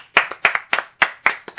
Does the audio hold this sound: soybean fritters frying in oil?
no